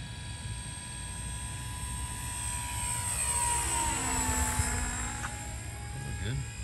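A Dynam P-47 RC model airplane makes a steady buzzing pass, its motor pitch rising and falling as it sweeps past, loud and continuous against outdoor background noise.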